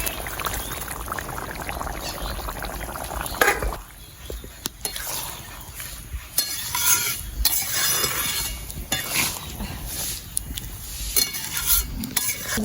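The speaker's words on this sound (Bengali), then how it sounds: "এবার আমি ডিমগুলো দিয়ে দিচ্ছি।" Eggs going into a sizzling Bihari-style egg curry in a pan, with steady loud frying hiss, a spoon stirring and scraping against the pot, and occasional clinks, continuous and close without speech.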